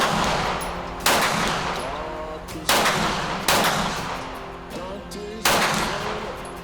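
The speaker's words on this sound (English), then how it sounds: "I'm gonna shoot at the steel and see where we're at." Springfield Armory XD-M Elite Tactical OSP pistol fires five sharp, loud shots at a steel target, spaced unevenly about a second or more apart, each with a ringing outdoor decay, no talk.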